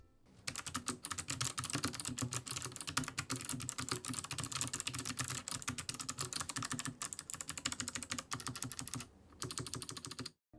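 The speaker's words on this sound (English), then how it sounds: "Typing on this keyboard is a real pleasure" Rapid, continuous typing on an ultra-slim full-size RGB mechanical keyboard, crisp clicky keystrokes close up, with a brief pause near the end.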